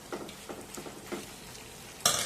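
Beetroot rice being stirred and mixed in a pan makes soft, rhythmic scraping strokes over a low sizzle, ending in a brighter, louder scrape.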